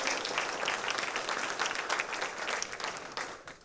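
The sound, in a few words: audience round of applause for veterans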